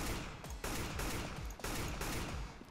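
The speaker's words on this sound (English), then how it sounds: "at long range, I'd be tapping like this, trying to get just 1 bullet in the head." Single tap-fired gunshots in the CS:GO video game, about four loud separate cracks spaced roughly a second apart, each ringing out between shots, with no speech.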